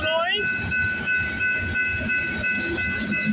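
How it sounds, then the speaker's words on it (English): A CPKC 230 freight train rolls past at night at Bronte Street, milepost 33 on the Galt Subdivision, a steady loud rumble and wheel hiss with a brief horn-like tone at the start. "Symbol on this train is CPKC 230."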